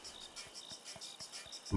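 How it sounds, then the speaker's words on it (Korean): A cicada chirps in the Samorost 3 video game, a faint, steady string of rhythmic buzzing pulses repeating evenly, ending with a brief louder thump. "이건 그냥 매미였어"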